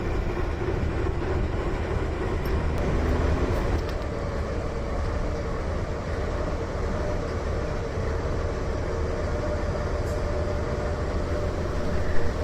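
A locomotive-hauled train in Cuba, bound for Guantanamo, rumbles with a steady, continuous low roar and rolling rail noise throughout, without pause or clear individual clacks.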